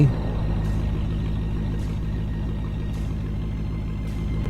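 A truck idles in a video game, its low, steady engine drone running unbroken and fairly loud, with faint periodic hisses above it.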